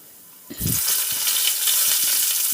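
Chana dal, urad dal and cumin hit hot oil for avalakki masala, starting a sudden loud sizzle after half a second that holds as a steady crackle, with a few soft stirring knocks.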